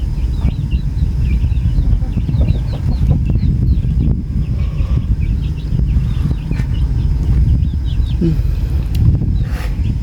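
Chickens cluck and chirp on and off through steady loud low rumbling background noise outdoors, with a brief voice near the end.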